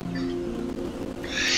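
A bird in the video game Dimhaven: Enigmas calls with a low, hooting, owl-like tone over steady ambient noise, then a brighter hiss rises near the end.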